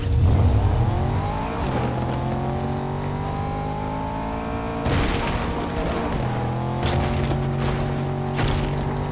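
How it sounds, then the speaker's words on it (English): A hot rod V8 car engine in Fortnite revs loudly, its pitch climbing in several long sweeps, with sharp bursts near the middle and the end and no one speaking. "And the engine sound is not bad, but a bit generic."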